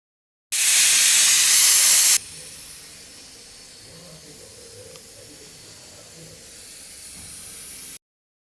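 A pressure cooker steaming jackfruit seeds gives a loud, sharp burst of hissing steam for a couple of seconds, then a steady softer hiss continuing underneath.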